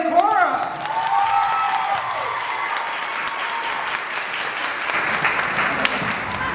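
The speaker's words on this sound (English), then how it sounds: "Ladies and gentlemen, please start clapping again for Andrea and Cora!" An audience at a high school multicultural show claps steadily, with a few cheers rising near the start and a faint sustained tone fading under the crowd noise.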